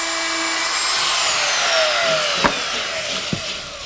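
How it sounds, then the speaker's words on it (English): A router bit cuts an electrical box opening out of a drywall panel with a steady, high, near whine that holds through the clip, broken by two brief sharp knocks. "Here's a termite's view of the bit following the outside perimeter of the box."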